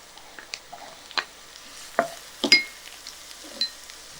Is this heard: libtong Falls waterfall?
no